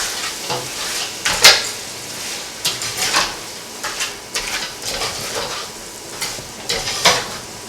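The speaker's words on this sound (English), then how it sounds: "We'll also add the crab meat in at this point to bunjay it really well, to develop some flavor." Curry crab with crab meat is stirred and sautéed in a pot for a Trinidad and Tobago dish, with a close, irregular run of scraping spoon strokes and clinks over a soft sizzle.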